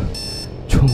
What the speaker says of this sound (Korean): 이런 망할 알람시계